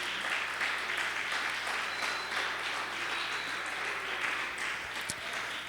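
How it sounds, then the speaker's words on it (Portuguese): A church congregation claps together in a sustained, even burst of applause that fills the room at a steady level for several seconds, with a faint bright ping near the end. "Pode aplaudir, Senhor."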